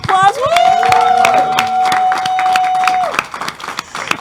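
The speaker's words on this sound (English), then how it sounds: "Let's give ourselves and our audience a round of applause." Audience applause at a fundraiser gala, dense clapping from a crowd running under a long sustained held tone, with a loud voice over the top before the claps thin out.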